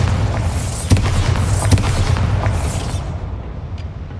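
A Bombarda spell explosion in Hogwarts Legacy on PS5, heavy booming blasts with a sharp hit near the start and another about a second later, loud and close over rumbling debris that fades out.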